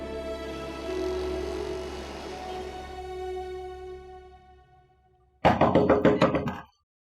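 A series of firm, rapid knocks on a door in a domestic drama scene, about eight sharp raps in quick succession, loud and close, following a stretch of fading background music.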